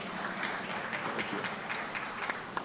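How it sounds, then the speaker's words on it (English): Audience applause at the Catalysing Conversations 2023 conference session: steady, dense clapping from a crowd, heard from a moderate distance and fairly soft, running throughout without a break. "Once again, a round of applause for them,"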